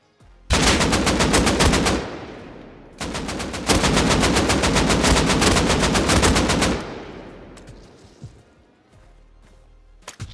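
Sustained automatic AK rifle fire in the console version of the Rust video game, two long loud bursts of rapid shots with a brief gap, then fading echoes and quieter game ambience.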